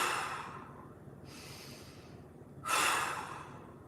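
Big deep breaths during a mobility stretch with one arm drawn across the body, three airy breath sounds in a row, close and soft, the last noticeably stronger, with no talking.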